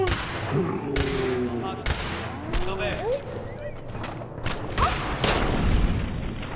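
Repeated gunshots from the video game Fallout 4 crack out in quick irregular bursts, loud and close, mixed with other game effects while a player talks and exclaims between shots.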